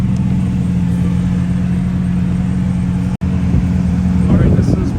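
A sports car engine running in track mode gives a steady, loud low drone with a strong humming tone, heard up close. One brief dropout breaks it, and faint movement sounds appear near the end.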